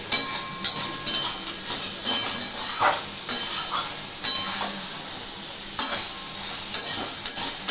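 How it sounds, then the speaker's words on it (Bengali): Spice paste sautés in a pan for a Bengali shol fish curry with potato and bori, with a steady sizzle broken by repeated scraping stirs and light utensil clinks against the pan. "এটা একটু ভালো করে কষছি"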